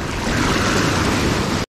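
Ocean surf on a striped bass fishing beach: waves break and wash close by in a loud, continuous rush that stops abruptly near the end.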